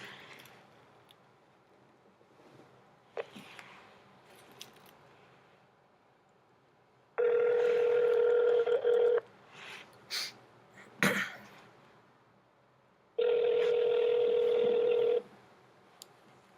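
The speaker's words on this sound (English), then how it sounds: "So I'm going to get Hollywood on here on the phone here" Telephone tones sound during a podcast phone call: two long, loud steady tone bursts separated by quiet, with faint clicks, shuffles and short dialing beeps in between.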